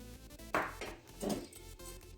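A utensil clinks and scrapes against a bowl as sugar, salt and yeast are mixed for onion buns, with a few close knocks over a short stretch.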